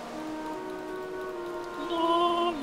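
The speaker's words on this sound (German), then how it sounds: "es regnet draußen" Steady rain falling in the video game Minecraft, a soft continuous hiss that holds evenly for a few seconds with no talking.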